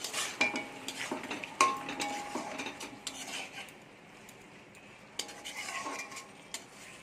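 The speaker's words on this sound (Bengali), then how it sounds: "এবারে ভেজে রাখা কচুগুলো দিয়ে দেবো দিয়ে ভালো করে নাড়াচাড়া করে" Fried taro pieces stirred into cooked masala for a goat curry in a metal pot, with quiet clinks and scrapes of a spoon against the pot, a faint sizzle beneath, and a pause midway.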